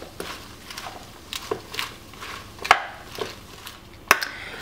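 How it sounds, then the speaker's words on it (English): Salad greens being tossed and mixed with pesto in a bowl, giving soft wet squishing and rustling with a few sharper clinks of utensil against the bowl, close and moderately quiet. "now you're just going to mix it before we add it to the plate"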